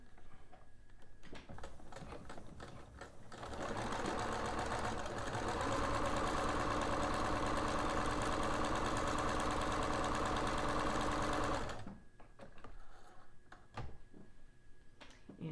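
A home sewing machine stitching a tiny eighth-inch French seam, running in a steady fast whir for about eight seconds, close and even, framed by quieter handling clicks before and after.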